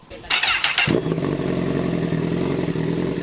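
A Honda CBR1000RR sport motorcycle with an aftermarket exhaust fires up with a loud burst of revving, then settles into a steady, throaty rumble close by.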